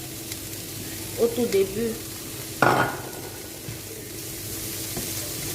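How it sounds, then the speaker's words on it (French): Spices and grated ginger sizzling softly in a pan while being stirred, a faint steady fry with a few scraping stirs and a brief louder clatter, under someone speaking briefly. "Je continue à remuer. J'ai mis toutes mes épices."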